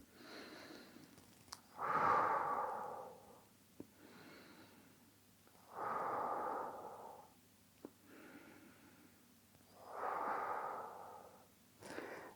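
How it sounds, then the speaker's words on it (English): Slow, deep breaths taken during a morning hip-stretching routine: three long airy inhale-exhale swells spaced a few seconds apart, close and fairly quiet, with no talking. "we're doing 2 or 3 deep breaths"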